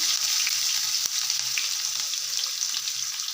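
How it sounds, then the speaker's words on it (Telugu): Cumin and mustard seeds with onions frying in hot oil for a drumstick curry, a steady close, loud sizzle with soft crackles and a single sharp tap near the start, no talking. "ఆయిల్ అయితే వేడెక్కింది ఇప్పుడు జీలకర్ర ఆవాలు వేస్తున్నాను"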